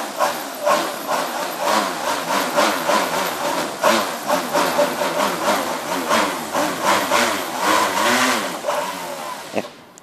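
Smartdrones SD-M550G 4408 brushless motors on a 4s LiPo with WII ESCs whine loudly and close as the throttle is varied fast, the pitch rising and falling in rapid wavering sweeps, ending with an abrupt click.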